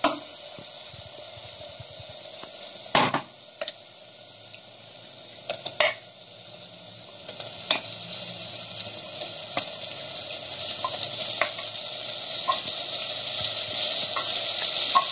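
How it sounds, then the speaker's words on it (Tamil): Pre-cooked mutton tipped into biryani masala sautéed in oil, giving a steady close hiss of frying with a few sharp splashes and clatters early on as the meat goes in. "இப்போ இந்த ஸ்டேஜில் நம்ம வேக வச்சிருக்கிற இந்த மட்டனை சேர்த்துக்கலாம்."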